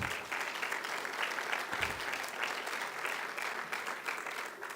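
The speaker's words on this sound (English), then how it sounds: "let's just give each other a round of applause just for that right there." Audience applause filling a university convocation hall, a dense, steady wash of clapping from a large crowd that holds evenly for about five seconds without a break.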